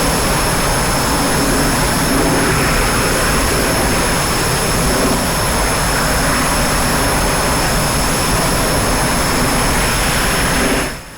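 Steady, loud jet engine roar of an MB-339 trainer climbing after takeoff in the DCS flight simulator, a continuous whine and rush with a high tone holding throughout and no talk.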